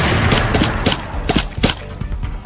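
Video game gunfire aimed at Sirenhead, the siren-headed creature, firing in rapid bursts of sharp, loud shots in a quick irregular volley with no talking.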